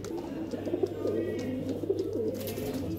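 Soft, low cooing of highflier pigeons repeats in gentle bursts close by, over a steady background hum.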